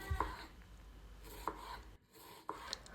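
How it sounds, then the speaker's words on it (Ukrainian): Knife finely chopping onions on a board, a few separate distinct strokes at an uneven pace, close and fairly quiet against a light background hiss. "я беру дві середніх цибулини та нарізаю їх дрібненько"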